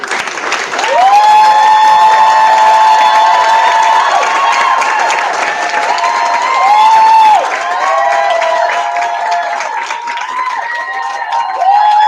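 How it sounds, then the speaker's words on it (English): A standing audience at an anniversary awards ceremony claps and cheers loudly and continuously, a dense sustained wave of applause with whoops and some voices rising over it. "if you could please stand and clap"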